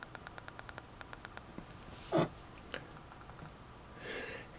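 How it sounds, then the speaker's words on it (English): Fire button on an Endura T-22 flashlight being pressed, giving a quick run of sharp, light clicks close up, followed by a few scattered fainter clicks and a soft brief rustle. "It's got a nice fire button right here. The fire button's clicky."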